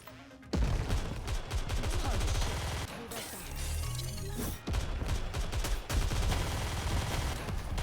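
Rapid gunfire bursts and explosions from combat in the video game NIKKE, loud and dense with brief pauses, layered over game effects.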